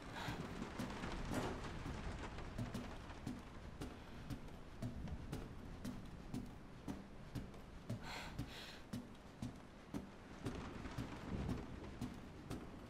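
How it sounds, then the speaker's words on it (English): Thunder from a lightning strike rumbles in the horror game Resident Evil 7, low and quiet beneath steady rain, with scattered sharp crackles over a long stretch. "Was there a lightning strike?"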